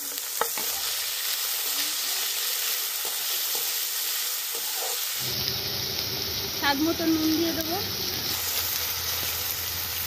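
Onion flower stalks frying in oil with chopped garlic, ginger and white sesame seeds for garlic rice. A steady, close sizzle with spatula stirring and scraping runs throughout, growing fuller partway through, while someone talks over it.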